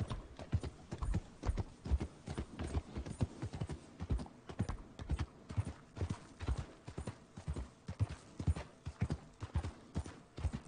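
Horse hooves clip-clopping in a rhythmic trot in Red Dead Redemption 2, steady and fairly close for the whole stretch, with no talk over them.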